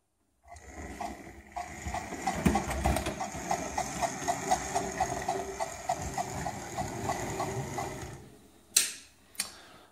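A model train rattles over track points, a close clattering run of rhythmic wheel clicks and mechanical whirring for several seconds, ending in two sharp knocks.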